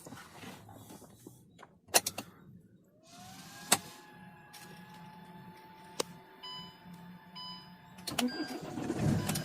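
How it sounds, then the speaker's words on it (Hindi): A second-hand car's engine is started: a few sharp clicks, a whirring starter that rises in pitch, then a steady low idle hum with occasional ticks, fairly quiet and close. "आप देख सकते हैं कि मेरी गाड़ी एकदम से शुरू हो गई।"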